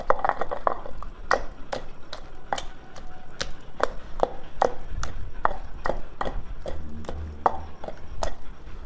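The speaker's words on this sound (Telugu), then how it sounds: "ఎల్లిపాయలు కొంచెం కచ్చపచ్చగా దంచుకోండి." Garlic cloves with skins on and chillies are pounded coarsely in a stone mortar, sharp regular thuds repeating roughly every half second, close and crisp, with faint low background hum.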